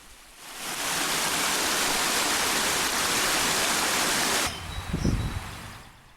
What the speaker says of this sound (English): just hearing the water rushing through